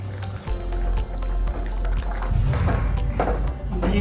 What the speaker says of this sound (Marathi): आता यामध्ये पालक टाकायचं.